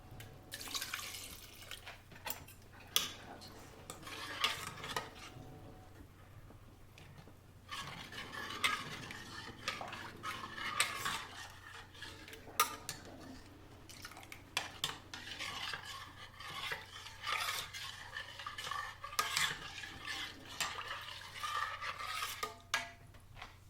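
Water poured into a pot of moong dal and finely chopped spinach, giving soft splashing and stirring with utensil clinks throughout, close and moderately quiet, with no talking.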